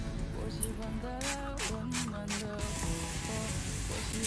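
Potato pancake batter of potato starch, flour, egg and scallion sizzling in an oiled pan, a soft steady crackle running throughout with a voice talking over it.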